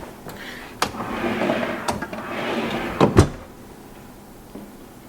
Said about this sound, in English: You've got all these on pull-out drawers.